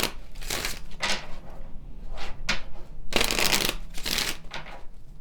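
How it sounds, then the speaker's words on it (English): Kipper cards being shuffled and pulled in bursts of riffling, papery flicks and slides, close and crisp, with brief pauses between runs. "Let's pull some Kipper cards here."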